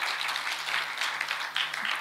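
An audience at a Punjabi poetry gathering at a mela claps in a dense, continuous patter of applause for a couple of seconds, moderately loud and steady.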